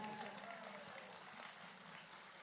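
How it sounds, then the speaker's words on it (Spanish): An outdoor festival audience in a park claps for the folk duo Dúo Elün, a fairly quiet but continuous patter of many hands that stays even throughout, with faint voices underneath. "Más fuerte el aplauso, por favor, para el dúo Elun"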